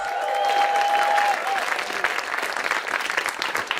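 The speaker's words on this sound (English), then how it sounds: "Make some noise for yourself." A live storytelling show audience in the Bay Area claps and cheers loudly and steadily throughout, a dense wash of applause with a faint whistle near the start.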